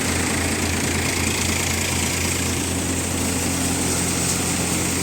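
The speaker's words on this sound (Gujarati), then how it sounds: "મિત્રો આ રીતનું ટ્રેક્ટરનું પરફોર્મન્સ હતું કારણ ટેક ચેમ્પિયન બેતાલીસનું" A Tech Champion 42 tractor engine drives a Parm Desar Visnagar basket-model thresher, a steady loud mechanical drone with a low engine hum and broadband machine noise running continuously and close throughout.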